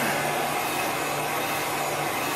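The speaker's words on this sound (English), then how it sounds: "now I'm going to dry this so I can do the words" A heat gun blows hot air over chalk paste on a transfer, giving a steady, close, unbroken whooshing hum with no talk.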